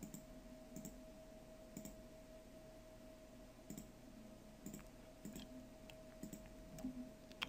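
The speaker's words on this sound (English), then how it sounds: "Now I'm just going to be control clicking" Mouse clicks at a computer during 3D modelling work, quiet sharp ticks scattered irregularly over a faint steady electrical hum, with no talking.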